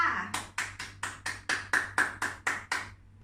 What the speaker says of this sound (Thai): ครูขอปรบมือให้